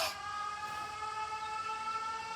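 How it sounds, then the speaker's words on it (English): An air raid siren wails steadily in the game 13 Sentinels: Aegis Rim, a sustained harmonic-rich tone rising in at the start and holding loud and alone with no voices. "The sirens."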